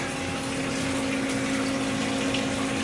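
A pump churns and aerates freshly mixed salt water in a reef tank mixing tank, giving a steady, loud rushing water sound with a constant mechanical hum beneath it.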